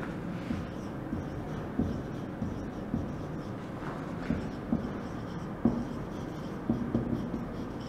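Pencil writing in a textbook during a ninth-grade science lesson, heard as faint repeated scratchy strokes and taps spaced through a steady low room hum, with no talking.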